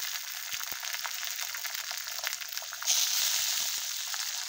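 An onion mixture frying in a pan for upma, a soft continuous sizzle with faint stirring clicks, growing slightly louder and brighter partway through.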